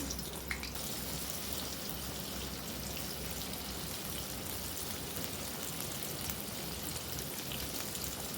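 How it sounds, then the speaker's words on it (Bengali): Paneer pieces fry lightly in oil, producing a steady, even sizzle that hisses softly and without a break, with no one talking. "সব পনিরগুলো দিয়ে দিয়েছি, হালকা করে ভেজে নেব।"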